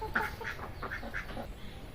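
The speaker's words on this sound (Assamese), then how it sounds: "বহুতকেইটা হাঁহ আছে আৰু বহুত মুৰ্গী আছে" Ducks quack in a village yard, several short nasal calls in a loose rhythm over about two seconds, fairly close, with a low rumble of background noise and no talk.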